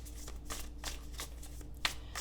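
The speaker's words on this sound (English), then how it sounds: "So let's just shuffle a couple more times here" Tarot cards being shuffled by hand close up, a rhythmic series of soft papery riffles repeating about every third of a second, with a small tap near the end.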